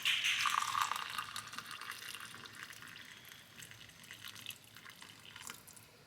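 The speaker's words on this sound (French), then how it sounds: "Mon eau est bouillante et donc je vais verser ça dans la bougie." Boiling water is poured from a kettle into a candle jar: a close gushing pour that starts strongest, then thins to a softer trickle with faint drips over about six seconds, no speech.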